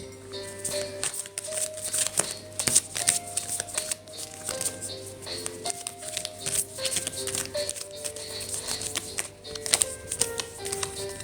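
Playing cards being shuffled, a steady run of quick riffling and tapping bursts over music playing in the background throughout.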